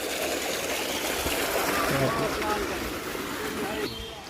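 Water pours steadily into a stone kund at the Sutikshna Muni ashram in Chitrakoot, a continuous close trickle and gurgle, with a voice talking over the flow partway through.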